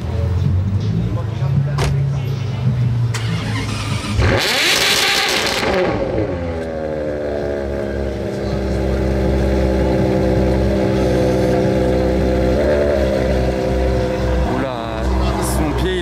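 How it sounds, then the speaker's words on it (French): A Ferrari GTO hypercar fires up in Monaco and revs hard, with a loud burst at the start-up followed by a sustained, rising engine roar that holds steady over the street ambience, with a person talking. "Oh la GTO qui va démarrer là."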